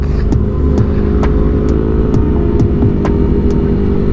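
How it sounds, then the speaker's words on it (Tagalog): Big bike motorcycles ride up freshly paved Sumulong Highway in a steady line, their engines a continuous loud rumble with a droning tone and faint periodic ticks. "Daming big bike, oh. Pila-pila sila."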